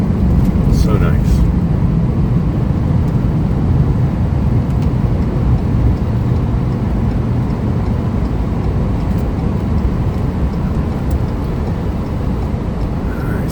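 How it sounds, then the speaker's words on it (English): Snow plow truck approaching along a snowy road, a steady low rumbling roar that holds loud and even throughout with no talk over it. "here comes the plow now"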